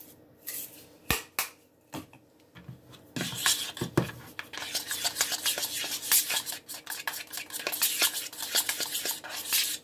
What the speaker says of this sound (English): Get that good stir.